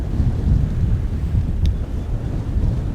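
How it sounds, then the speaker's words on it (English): Strong wind roars and buffets the microphone aboard a sailboat heading into Mariager fjord in Denmark, a steady, loud, low rumble with gusty swells throughout and no voices. "I have the wind coming slightly from the side and from front"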